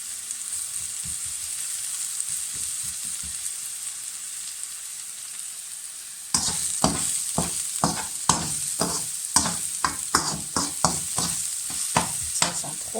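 Onion and garlic sautéing in a pan, a steady bright sizzle with occasional stirring, then from midway louder with rhythmic scraping strokes of a utensil against the pan, close and alone.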